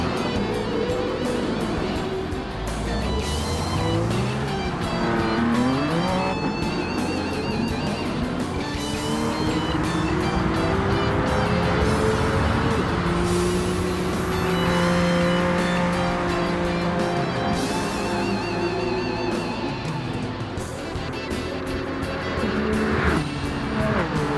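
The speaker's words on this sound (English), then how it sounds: "The 32 GTR and the BMW battle it out into the hairpin as they begin to chase the Toyota ahead." Race cars in Gran Turismo 7, a Nissan R32 GT-R and a BMW, battle side by side into a hairpin while chasing a Toyota. Engines roar loudly and continuously, with shifting revs and bursts of tire squeal.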